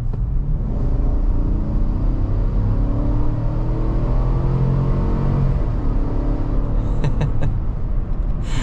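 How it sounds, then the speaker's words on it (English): A 2023 Chevy Tahoe Z71 with the 5.3-litre V8 accelerating hard uphill under full throttle, a steady loud engine rumble and road noise rising in pitch throughout, with a few brief clicks near the end. "Alright, so we'll get an acceleration test going up this hill here."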